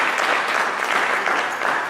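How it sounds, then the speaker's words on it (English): A short burst of steady audience applause fills the room, dense and even at close range, with no voices standing out. "Give her a round of applause."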